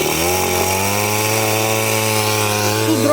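A saw cuts through thick, heavy firewood logs with a loud, steady whining drone that holds an even pitch for the whole stretch, close by with no talking.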